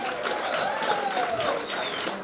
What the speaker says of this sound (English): One more round of applause for WA's own Sarah Lawrence